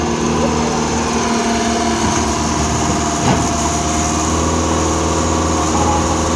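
A turbocharged engine runs loud and close in a steady, continuous drone with a faint high whine, holding its pitch with no clear rises or falls throughout.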